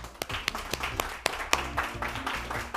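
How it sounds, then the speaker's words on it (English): A small group at an elementary science bowl applauds the judges, with sparse, distinct claps at an uneven pace over a low background hum. "a nice round of applause for our judges who are off camera"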